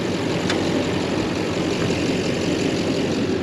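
A Chevrolet Silverado with a 6.6 LBZ Duramax diesel idles close by in a steady, continuous low rumble with diesel clatter, with no pauses and no voices.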